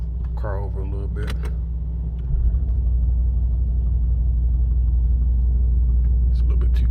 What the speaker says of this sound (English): Let me move this car over a little bit.